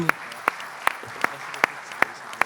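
Steady applause from an audience, with regular sharp claps standing out above the continuous patter.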